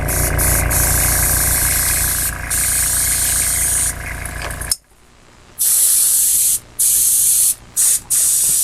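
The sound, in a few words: airbrush spraying paint on a hanging monkey figure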